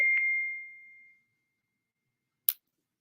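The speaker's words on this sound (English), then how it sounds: "This is connected to Toy's phone and it's blowing up." Phone notification alerts: a clear electronic ding that rings out and fades over about a second, followed after a pause by a brief second chime, against silence.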